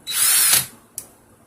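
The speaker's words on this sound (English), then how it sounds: "give it a little twist with the drill" A power drill whirs briefly in one high-pitched burst while twisting coil wire, then stops, followed by a single light click.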